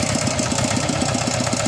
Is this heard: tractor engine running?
yes